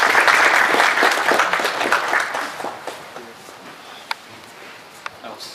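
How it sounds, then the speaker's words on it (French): An audience at a charity presentation for an orphanage association applauds loudly at first, then the clapping thins out and fades to a few scattered claps with faint background noise. "Je vais vous demander de l'applaudir."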